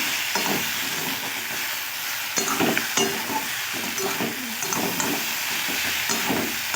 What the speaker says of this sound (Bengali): ভেজে রাখা বড়িগুলো দেওয়ার পরে একটু ভালো করে নাড়িয়ে নেব